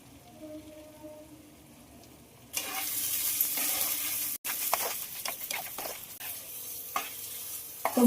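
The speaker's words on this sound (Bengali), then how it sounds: "তো মশলাটা খুব ভালোভাবে ভাজা হয়ে গেছে।" Spice masala for butter chicken, with red chilli powder, salt, sugar and fresh cream, sizzles and frying in a pan while being stirred. The loud hiss starts after a quiet opening, with scraping stirs through it and no talk.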